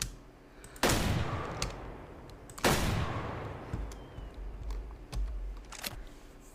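Two loud gunshots from a hunting game, each a sharp blast with a lingering tail, followed by fainter mechanical clicks and clacks.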